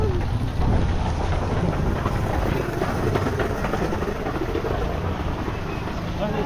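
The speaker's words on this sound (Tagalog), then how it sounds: "ang lakas ng ulan" Heavy rain roars steadily and loudly as a dense, unbroken wash of noise, with no voices over it.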